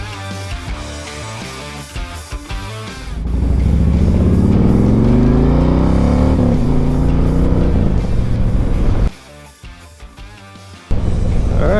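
A Harley-Davidson Road Glide CVO motorcycle on the road, loud and close, accelerating through a long rising pull, dropping briefly, then surging again near the end.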